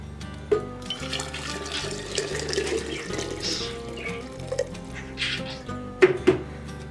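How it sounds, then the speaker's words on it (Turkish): Glass jars rinsed out with boiling water while preparing homemade apple cider vinegar: continuous running and sloshing water with a few sharper splashes and clinks, fairly close and without speech. "şimdi ilk olarak kavanozlarımızın içini kaynar suyla çalkalıyoruz"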